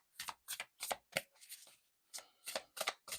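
Tarot cards being drawn and shuffled, giving a run of crisp, close flicking and slapping bursts in an uneven rhythm, with a short gap midway and no voices.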